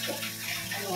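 Shower water running in a steady, close, continuous hiss and splash that fills the whole moment without a break.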